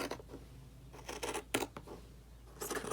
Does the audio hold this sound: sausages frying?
no